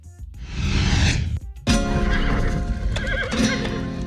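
A horse gives a loud, close whinny, then a second rising neigh with clip-clop of hooves and stable shuffling around it.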